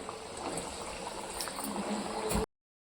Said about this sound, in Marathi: आता आपण जे कचोरी तयार केली होती ती ठेवूया फ्राय करायला।